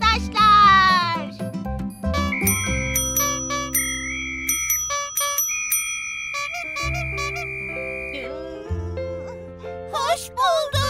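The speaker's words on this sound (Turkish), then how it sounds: "Şu zil olayı hiç iyi fikir değil galiba ama neyse." A bell or ding rings in a children's quiz game show, bright chiming tones sounding several times amid playful music and cartoon effects, with children's voices nearby.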